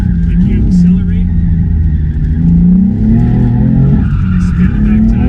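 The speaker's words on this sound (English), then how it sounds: "spin the back tires, the back end will start to slide" A BMW M car on a club track day revs hard as its rear tires spin and the back end slides, engine roar and tire scrub running loud and continuous under a coaching voice.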